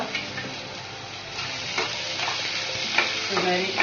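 Onion fries in oil with cumin, mustard seeds and garlic, a close, steady sizzle broken by repeated scraping stirs of the spoon against the pan.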